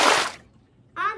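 A toilet flushes in the horror video game The Baby in Yellow: a short, loud rushing burst of water that cuts off quickly. After a pause, a voice starts talking.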